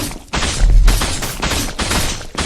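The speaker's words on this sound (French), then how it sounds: "Je me prends tellement de tirs en plus." Loud, close gunfire from the video game The Lost Mythologies comes in several broad, crackling bursts. The volleys follow one another in quick succession with barely any pause between them, and there is no talk.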